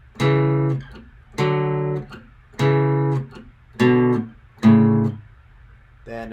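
A rhythm guitar riff from a song, played alone as five strong, evenly spaced strummed chords with short gaps between them, each ringing briefly before being cut off.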